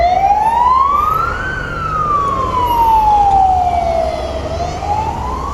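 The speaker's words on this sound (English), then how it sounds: "Ambulance." Ambulance siren wailing on a street near the Moika River embankment and Nevsky Prospect in St Petersburg at night, a loud, close, slow rising and falling tone over steady traffic rumble.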